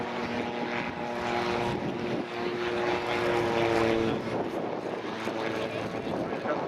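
A Calidus autogyro flies at the Air Waves Portrush 2016 air show, its propeller engine droning steadily with a shifting pitch at moderate distance, while a commentator talks over it.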